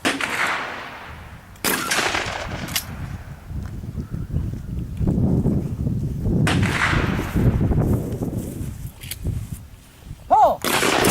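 Gunshots at a family shooting range, several sharp loud reports spaced irregularly across the span, with voices calling out between shots.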